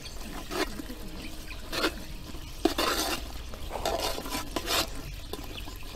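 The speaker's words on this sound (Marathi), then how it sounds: "आता ते व्यवस्थित परतवून घ्यायचे।" Spices for misal, including Kashmiri red chilli powder, are stirred and sautéed in oil in a pan over a wood-fired stove, with repeated soft scraping and sizzling strokes at close range and no talking.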